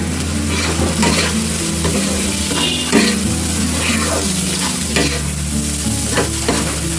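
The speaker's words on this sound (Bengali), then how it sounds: "চালটা দিয়ে আমি ভালো করে একটু ভেজে নিচ্ছি।" Rice frying in a pan with turmeric and chilli powder for prawn pulao, a loud continuous sizzle with a spatula scraping and stirring throughout, close up and alone without speech.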